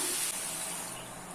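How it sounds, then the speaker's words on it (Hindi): A cup of water pours in a steady hissing stream into a hot pan of garlic chicken, sizzling briefly and close up, with no talking. "अभी इसमें 1 कप पानी ऐड कर लेना है"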